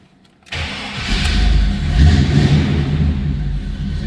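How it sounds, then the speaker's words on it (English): A 1940 Pontiac Silver Streak street rod engine cranks and catches right away after a moment of silence, then runs loud and close with a rough, steady idle. "Let's go ahead and fire this one up so you can hear it run."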